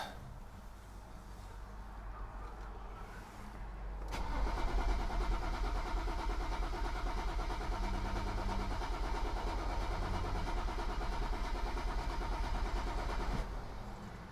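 A BMW car engine cranks over and over without catching, a steady loud churning that runs for about nine seconds close by, then cuts off abruptly.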